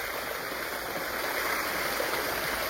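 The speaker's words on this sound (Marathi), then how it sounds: "असं पाणी पडतं" Steady rushing water pours from a pipe into a pond, splashing continuously like a stream falling into water, with no voices.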